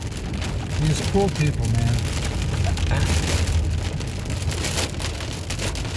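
Heavy rain and hail pound a car during a severe thunderstorm in Spokane, Washington, a dense steady wash of drumming close around the cabin while someone talks over it.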